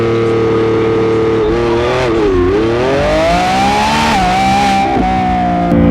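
A Lamborghini Revuelto hybrid launching hard in performance mode, its engine roaring loud and close as the pitch dips briefly at the shift and then climbs steadily through the gears, with no talk over it.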